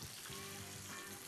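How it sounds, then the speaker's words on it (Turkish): Mushrooms fry in hot oil, a continuous close sizzle and crackle that stays steady and quiet throughout. "Mantarları da kızartıyoruz."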